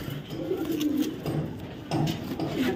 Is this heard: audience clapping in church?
no